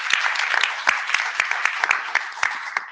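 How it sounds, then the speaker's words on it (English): Meeting audience at an IETF session clapping, a scattered group of distinct hand claps in a room, moderately loud and uneven in rhythm. "we're going to clap for you anyway"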